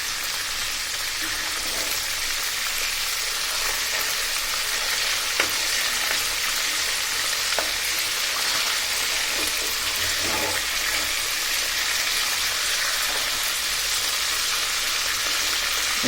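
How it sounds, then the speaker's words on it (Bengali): Fish heads fry in hot oil for a winter mixed-vegetable curry, giving a steady, moderately quiet sizzling hiss that runs evenly throughout with no voices. "মাছের মাথাগুলো ভাজা হয়ে যাক, তারপর আমি তেলে দিয়ে দেব"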